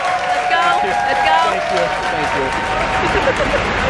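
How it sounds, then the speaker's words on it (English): Applause from a crowd asked to clap for a teammate with the fastest time, steady and dense across the whole stretch, mixed with voices and scattered shouts. "clap for this man right now"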